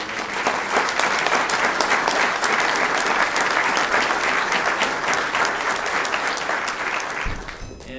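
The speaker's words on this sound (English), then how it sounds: "So I give a round of applause to Steve for the last couple" A dinner audience at a golf event applauds, sustained, dense and even clapping from a large room that holds steady for several seconds and then tapers off at the end.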